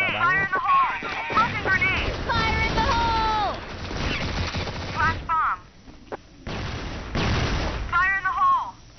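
Game gunfire and explosive bursts from a shooting video game, including a flash bomb going off, with rapid shots, whistling tones and loud thumps packed tightly together while voices talk over the action.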